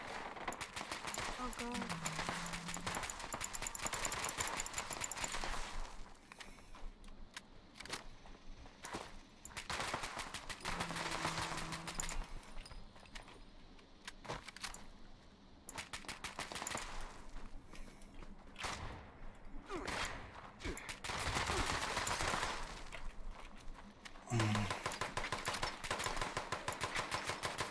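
Turrets in Fallout 76 fire guns during a defend event, with long bursts of rapid gunfire that stop and start again. A player's voice breaks in now and then over the shooting.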